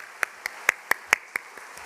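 A church congregation gives brief, faint applause during a Sunday service. About eight sparse, evenly spaced claps sound in a quiet room, more like a few hands than a full crowd.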